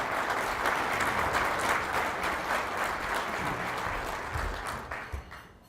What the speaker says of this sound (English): One more round of applause for Dr. Swinyard.